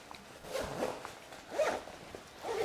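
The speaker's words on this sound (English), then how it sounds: "there's also a zipper" Someone runs a zipper around the side of a Manfrotto Pro photo vest in several rasping pulls, close and moderately loud, with brief pauses between strokes.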